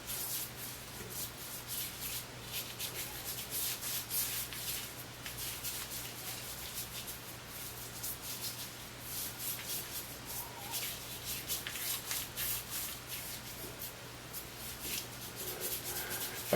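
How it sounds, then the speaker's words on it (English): A hand rubbing shaving cream into the face and beard, a soft continuous wet rubbing and shuffling close by, quiet and steady with no talk. "I'm just going to do that here with my hand, really work it into my beard there."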